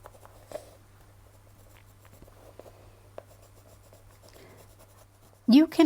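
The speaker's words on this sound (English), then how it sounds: "we're just going to apply that colored pencil at the very edge of this" A brown colored pencil scratches in short, faint strokes along the edge of torn paper, close and quiet, before a sudden louder burst of sound at the very end.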